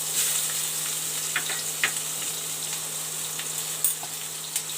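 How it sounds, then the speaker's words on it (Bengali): Onion slices frying in hot oil, after garlic was fried in the same oil, give a steady close hiss of sizzling with scattered crackles and light pops, and no voices. "পেঁয়াজটা একটু রাউন্ড করে ভেজে নেব।"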